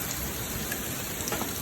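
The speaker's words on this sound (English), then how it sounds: "Raining pretty hard here now." Heavy rain mixed with hail pours down in the desert of Las Vegas, a dense continuous hiss of drops hitting surfaces, loud and steady with no talking.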